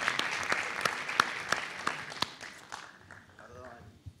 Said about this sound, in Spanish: Vamos a pedir un fuerte aplauso.